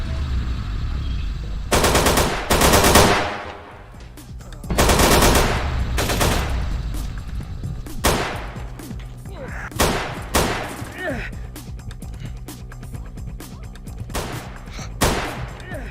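Video game gunfire in Vampire: The Masquerade – Bloodlines: loud bursts of rapid automatic shots come in several volleys, separated by quieter gaps, while someone talks at times.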